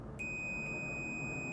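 A multimeter gives a continuity-test beep, a clear, sustained high electronic tone that starts abruptly and holds steadily at moderate loudness through to the end, with no talking.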